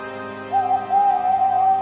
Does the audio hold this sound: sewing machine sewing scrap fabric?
no